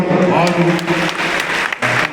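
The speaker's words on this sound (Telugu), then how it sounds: "మంచిగా చేసే అభినందనను బట్టి గట్టిగా చప్పట్లు కొడతాం" Audience applause at a church celebration, a steady wash of clapping under a raised speaking voice, with a brief dip near the end before the clapping resumes.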